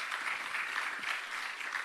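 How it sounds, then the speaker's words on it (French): Brief, steady applause from a seated audience at a web festival talk, many hands clapping evenly at moderate volume. "on peut applaudir"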